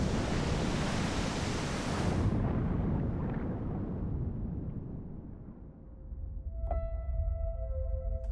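Ocean waves breaking on a beach in Scotland, a loud broad wash of surf that fades over several seconds before a fresh rush of water builds again.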